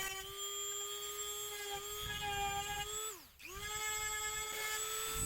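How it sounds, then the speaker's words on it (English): A Dremel rotary tool grinds and shapes hardened epoxy on a Pontiac Fiero repair, a steady high-pitched whine that briefly dips in speed mid-way before spinning back up, close and continuous with no talking. "So I took my Dremel tool back out and shaped it to the best of my ability."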